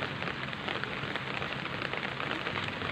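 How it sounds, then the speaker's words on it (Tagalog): Steady rain falls outdoors in a dense, even hiss of drops striking leaves and ground, close and constant throughout with no voices over it. "wala-wala na yung ulan guys, pero umuulan pa rin siya"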